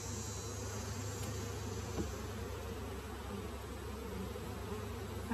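Honeybees buzz in a dense, steady drone as they are gently scraped off a hive frame during a varroa mite check, a close continuous hum with a faint scraping scuff midway and no talking.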